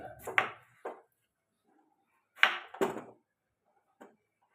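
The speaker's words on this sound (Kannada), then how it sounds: "ಈ ಆಲೂಗಡ್ಡೆ ಮಾತ್ರ ಸ್ವಲ್ಪ ದೊಡ್ಡ ಸೈಜಾಗೆ ಕಟ್ ಮಾಡ್ಕೊಡ್ತೀನಿ" Knife chopping potato into large pieces on a board: a few separate crisp thuds, spaced unevenly with pauses between, close and fairly quiet with no talking.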